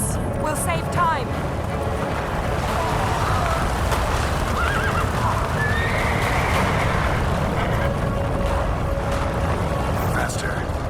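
A horse in The Witcher 3 whinnies loudly near the start, then its hooves clatter at a gallop under a rumbling, busy game soundtrack while voices speak over it.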